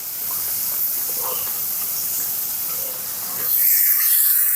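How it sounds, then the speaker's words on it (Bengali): Soaked masoor dal (red lentils) tipped into fried onion gives a steady hissing sizzle that swells louder near the end. "একটু ভেজে নিয়ে পেঁয়াজটাকে তারপর আমি এখন মুসুরির ডালটাকে দিয়ে দেবো"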